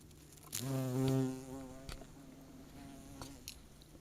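Bees fly around hogweed flower umbels: one passes close with a loud, deep buzz lasting about a second, then fainter buzzing and small ticks follow against quiet outdoor background.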